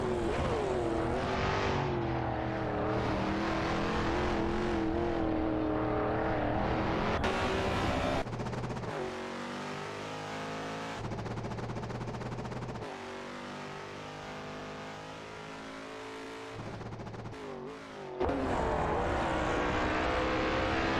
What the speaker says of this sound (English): Simplamarkers and Terra Fitness are in a Chevrolet Corvette C3, while Kokibinity and Edelbach are driving a Plymouth Barracuda